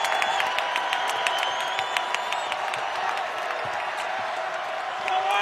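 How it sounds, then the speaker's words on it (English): A packed basketball arena crowd in Sioux Falls roars during a Summit League semifinal, a loud sustained cheer with scattered claps and whistles while a commentator talks over it. "The crowd here in Sioux Falls gets loud"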